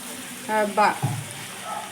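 Meat, potato and spices fry in oil in a home kitchen, giving a brief hiss of sizzling and a couple of short stirring scrapes in the middle, fairly close and with no talk.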